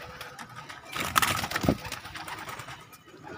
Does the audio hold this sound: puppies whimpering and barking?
no